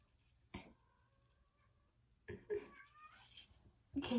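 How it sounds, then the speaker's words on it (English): A cat meows twice, short calls with a rising, wavering tone, separated by a pause, then a brief third sound starts at the end. "Can you hear my kitty?"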